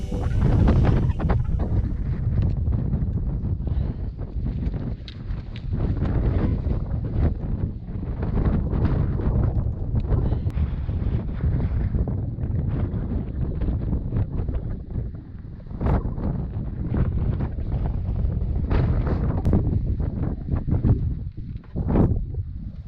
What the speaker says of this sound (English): Beautiful, but windy.